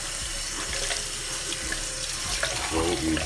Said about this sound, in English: You just wanna run your cold water